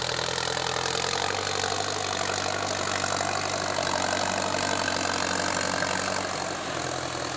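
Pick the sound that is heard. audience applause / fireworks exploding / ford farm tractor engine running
ford farm tractor engine running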